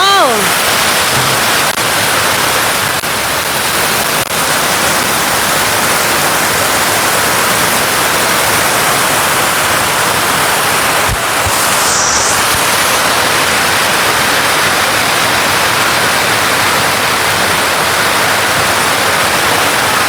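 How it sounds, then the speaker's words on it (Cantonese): Heavy rain pours down in a loud, dense, unbroken roar that fills the entire stretch, with voices talking now and then beneath it. "嗱，睇到大雨嘛？"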